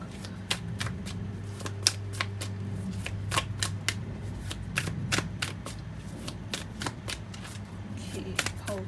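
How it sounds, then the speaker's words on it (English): Self-care oracle cards being shuffled by hand, a close series of crisp riffling snaps repeating at an irregular pace over a faint background hum, with no talking. "let's look at the self-care oracle cards, which I'm going to pull out for you guys"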